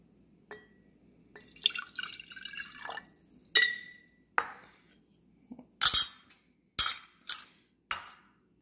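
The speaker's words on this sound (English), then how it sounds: "then we're going to go ahead and get in our olive oil. And then our vinegar." Olive oil and then vinegar are poured into a container for a green apple vinaigrette, heard as a short trickle followed by several sharp drips and clinks of glass, close and otherwise quiet.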